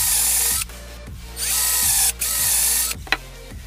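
Power drill with a depth-stopped bit boring perpendicular holes into a wooden strip for a joint, in several loud whirring bursts separated by short pauses, with the bit catching and slowing between runs.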